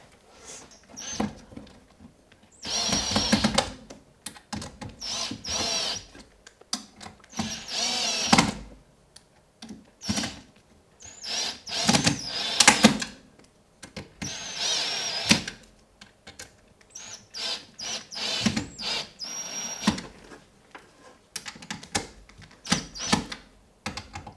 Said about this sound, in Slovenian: Zdaj se pa lahko lotimo še, torej da pumpo fiksiramo z vijaki.